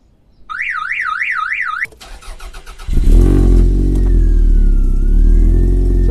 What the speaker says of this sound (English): I'll start the engine up quickly to make sure that's all worked.